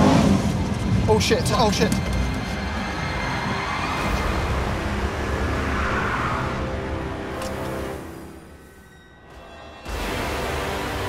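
A supercharged Ford GT engine roars hard and climbs toward the red line, dips briefly, then surges back. A person exclaims over the engine noise.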